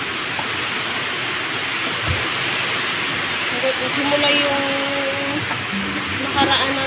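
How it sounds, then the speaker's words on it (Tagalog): Heavy rain pouring down as a dense, steady hiss that fills the whole scene, with a person talking over it throughout. "Malakas na yung ulan"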